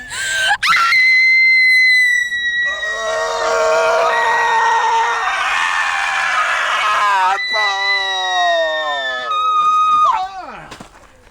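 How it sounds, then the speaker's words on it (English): A man screams at full force in a long, drawn-out yell, rising and wavering through several breaths before trailing off into a strained, falling cry at the end. "if you scream loud enough, if you bellow with all your might"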